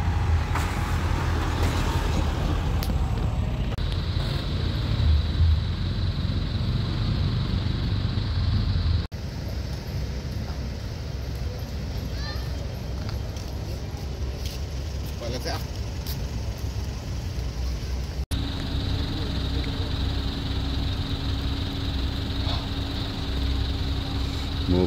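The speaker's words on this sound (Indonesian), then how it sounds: "Mobil keluar ya dari kapal feri di stadion di Pelabuhan Menajam nih guys" Cars and heavier vehicles roll off a ferry at Penajam port in East Kalimantan, a continuous rumble of engines and passing traffic with a steady whine and a brief hiss, voices talking over it.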